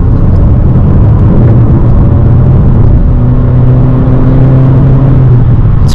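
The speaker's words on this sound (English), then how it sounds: "I'm just gonna put the car into sport and see how it drives" A 2020 Honda Accord 2.0 drives in sport mode, heard from inside as a loud, steady engine hum and road rumble with gently shifting engine tones throughout, and no speech.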